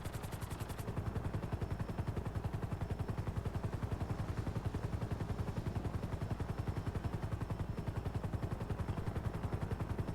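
Rapid, evenly spaced gunfire in Grand Theft Auto Online, a dense rhythmic stream of shots carrying on steadily for the whole stretch, loud and close, with no talk.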